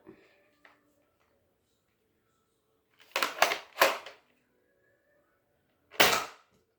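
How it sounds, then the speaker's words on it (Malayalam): Three sharp snapping shots from a toy gun firing pellets at a wall in quick succession, then a pause and a fourth, each a crisp close pop with brief rattle. "അപ്പം ഞാൻ ആ മതിലിൻ്റെ അവിടെ വെടിവെച്ച് കാണിച്ചു തരാം."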